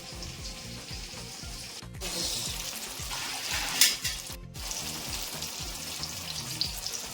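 Chopped tomatoes sauté in oil in a pan for a spicy lesser yam gravy, giving a steady close sizzle and crackle with a brief stir clatter midway and no talk.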